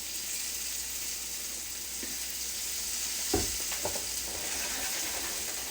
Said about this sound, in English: Because I do want those basically frying in oil.